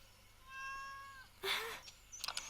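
A cat meows in a Stardew Valley farming game, a soft in-game meow followed by a louder, rising mew and a few quick chirpy sounds over faint background music.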